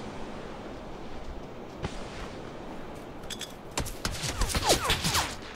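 Gunfire in PUBG, scattered distant pops at first, then a flurry of sharper, closer shots cracking in quick irregular bursts over the steady outdoor ambience toward the end.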